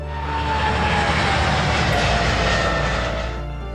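A fixed-wing aircraft roars steadily overhead, a loud continuous engine drone that swells and then begins to fade toward the end, heard alone without voices.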